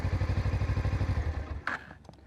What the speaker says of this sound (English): it's still a nice little intake note for such a small bike